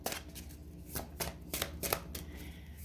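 Tarot cards shuffled by hand, quiet and close, with soft riffling flutters and sharp slapping taps coming in irregular bursts.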